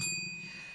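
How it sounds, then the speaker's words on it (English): A small bell is struck once inside a radio studio, giving a bright, clear ring that fades over less than a second. "It's the only bell we got in the studio at the moment."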